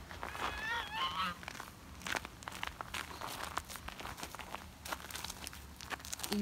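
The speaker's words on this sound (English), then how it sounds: "Evil vicious duck attack." A duck honks in rapid, wavering squawks near the start while attacking, followed by crinkling and rustling handling noise and scuffling close by, with a person's voice faintly mixed in.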